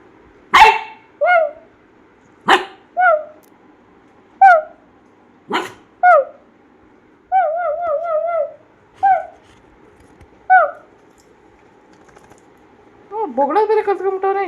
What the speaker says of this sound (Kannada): ಬೊಗಳ ಬೇರೆ ಕಲ್ತ್ಕೊಂಡ್ಬಿಟ್ಟವನೆ, ಏನು ಜೋರಾಗಿ ಬೊಗಳ್ತಾನೆ.